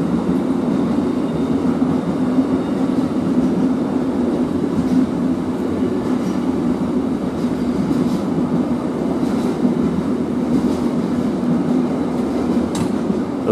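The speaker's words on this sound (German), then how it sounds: "Auch geil, diese Container mit der ÖBB Vectron." A container freight train hauled by an ÖBB Vectron locomotive rolls slowly past at Kufstein, a steady close rumble of wagons and wheels with faint rail clicks throughout, wind noise on the track.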